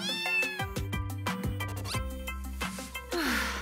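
Cartoon cats meow repeatedly in an animated show, with a quick series of rising and falling mews and yowls set against bouncy music and sound effects.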